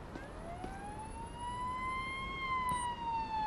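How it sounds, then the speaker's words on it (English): An ambulance siren in the Police Simulator: Patrol Officers video game sounds as a single slow, steady wail, moderately distant and fairly faint over a low background hiss. "I have an injured person requesting an ambulance."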